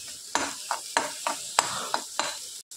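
Onions and egg for dhaba-style anda bhurji are stirred in a frying pan. A spatula scrapes in a quick, steady rhythm, roughly three strokes a second, over a constant close sizzle, with no voices.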